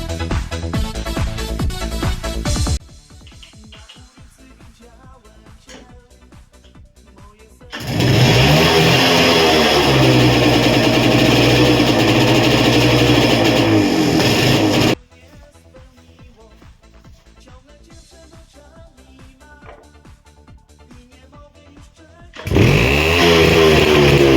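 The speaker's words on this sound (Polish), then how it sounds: "właśnie odpala i chodzi Romet 50T1." A 1980 Romet 50T1 moped, built in Bydgoszcz, starts and runs. Its small engine idles with a buzzing putter, then surges into loud, sustained revs twice, dropping back to idle between bursts, recorded up close.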